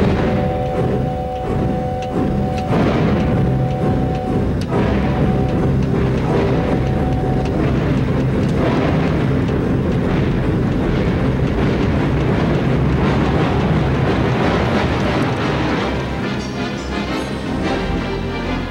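A long, loud rumbling imitation of a train on a theatre organ, with chugging rhythm, hissing noise and whistle-like tones, sustained throughout.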